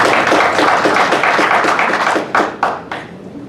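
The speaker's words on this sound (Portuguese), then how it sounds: "é uma salva de palmas para a Adega" Applause in a public hearing room greets the climate secretary as he is introduced, a dense patter of hand claps from the audience. It ends in a few louder, separate claps near the close.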